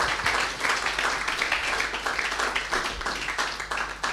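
A church congregation at a Sunday service claps hands for Jesus, with sustained, fairly loud applause from many people filling the room throughout.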